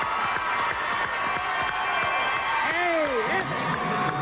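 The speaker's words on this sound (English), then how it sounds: "double oohs and ahs from the crowd here at the Richmond Coliseum for the release moves" A dense arena crowd at the Richmond Coliseum during a 1999 men's gymnastics team championship swells in a rising, gliding ooh over constant hubbub, with scattered cheers and whoops throughout.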